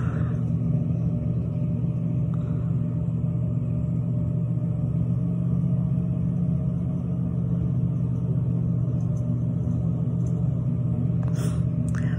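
A truck towing a trailer rolls down the road, its engine and tires making a steady, close, low rumble that drones on without a break.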